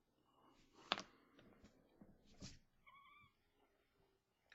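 A cat meows indoors, a brief distinct call near the end amid quiet clicks and scattered soft noises, faint and close.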